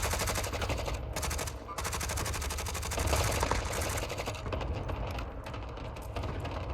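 Sustained rapid automatic gunfire from a battle royale video game, dense and loud throughout, with bursts overlapping and only brief dips between volleys, no talking over it.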